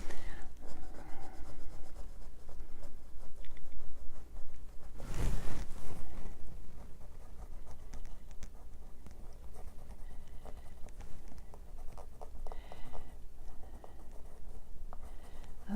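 A pencil scratches and strokes across paper while drawing an iris, with soft, irregular close-up scribbling, hatching and light taps that run throughout at a low level, plus one brief louder rustle partway through.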